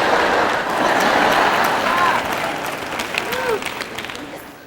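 An audience applauding at a sermon, a loud, full wash of clapping that gradually thins and fades.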